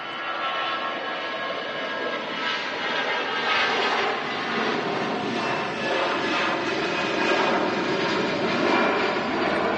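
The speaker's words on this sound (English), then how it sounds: "And there's the EasyJet off to Nice" An EasyJet airliner roars down the runway on takeoff at Manchester Airport, a steady, loud broadband jet rumble holding throughout with no voices.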